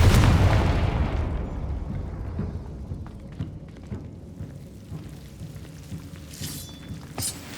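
A Confringo blasting spell from Hogwarts Legacy goes off in a heavy rumbling explosion that slowly fades into low crackling debris, followed by a couple of sharp bright hits near the end.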